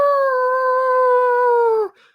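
A person's voice imitates a werewolf howl, one loud, sustained, slightly falling wail lasting about two seconds before breaking off.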